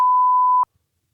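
A single steady electronic beep tone, loud and sustained for just over half a second, then cuts off into silence.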